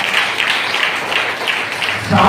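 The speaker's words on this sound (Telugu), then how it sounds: "చప్పట్లు కొడతారా?" Applause from a church congregation during a sermon, a continuous wash of clapping at moderate distance that swells slightly near the end.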